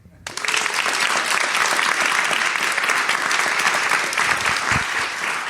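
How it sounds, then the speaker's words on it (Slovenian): A live audience at a Slovenian podcast recording on a castle stage breaks into loud, sustained applause that swells quickly and holds steady for several seconds, dense and close. "Si zaploskajte sami,"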